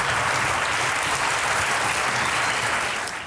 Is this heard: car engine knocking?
no